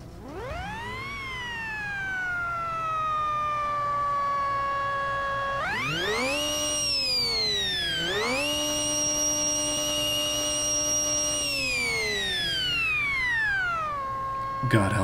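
Tiny supercharged engine running nearby, a loud continuous whine that revs up and down in long sweeping rises and falls, with a harsh buzzing edge throughout.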